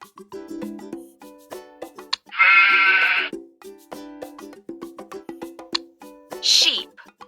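A sheep bleats, a clear, wavering call of under a second, over light, plucky children's music, followed by a shorter, fainter second bleat near the end.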